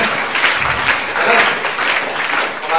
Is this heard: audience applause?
yes